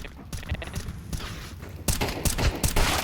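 Rapid gunfire from the Counter-Strike 2 video game, bursts of sharp cracking shots that grow louder and denser in the second half, fairly close.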